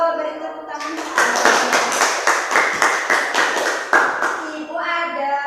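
A classroom of children claps together in quick rhythmic unison for about four seconds, loud and close, with voices talking before and after the applause.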